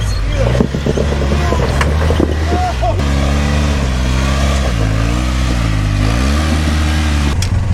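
A vehicle engine revving hard under throttle, a loud steady roar whose pitch climbs and wavers over several seconds, with people talking over it.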